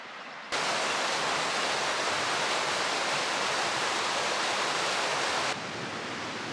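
Steady rushing river water at a hiking trail crossing on the Eagle Rock Loop, a loud, continuous broadband wash that starts abruptly and stops abruptly before trailing off, with no talking.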